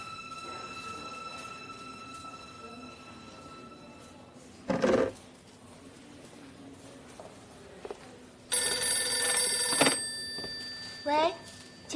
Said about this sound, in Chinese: 罗医师电话